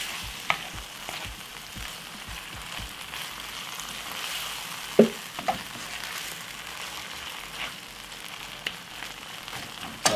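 Tuna pasta sauce with ketchup bubbles and sizzles steadily in a pan over medium heat, a soft continuous frying hiss broken by a few clicks and stirring knocks, with no talk.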